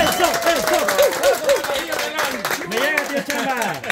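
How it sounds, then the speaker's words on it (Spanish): Lively clapping from a small group mixed with excited voices and shouts, uneven and close, with people talking and calling out over it. "Un aplauso, un aplauso."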